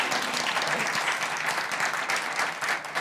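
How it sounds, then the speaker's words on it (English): An arts-event audience applauds steadily for a guest being introduced, a dense even clatter of many hands lasting a few seconds before easing slightly at the end. "Round of applause."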